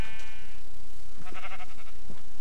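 A Minecraft sheep gives a short bleat, loud and close, over a constant noisy background bed with a rumbling low texture; no one speaks.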